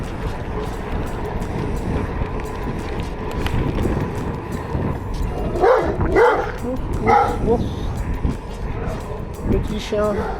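A Briard dog barking outdoors on a sunny countryside ride in Loir-et-Cher, a few mid-distance barks and yips in the second half under wind and people talking.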